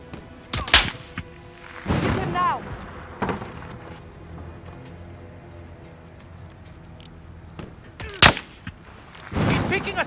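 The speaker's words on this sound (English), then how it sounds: "Those shots came from the highway!" Sniper rifle shots ring out in a Call of Duty: Modern Warfare (2019) firefight near a highway: several sharp, loud cracks spread irregularly across the stretch, with voices and low combat ambience between them.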